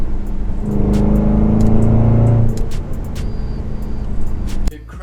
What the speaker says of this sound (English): it's the insane exhaust note that you hear out of the back of this car